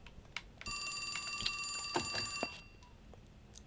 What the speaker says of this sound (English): Phone's ringing. That's the telephone